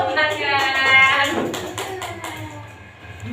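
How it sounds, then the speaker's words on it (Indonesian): Children in a classroom clap briefly together, a short burst of scattered hand claps mixed with murmuring young voices, fairly close and moderately loud. "tepuk tangan"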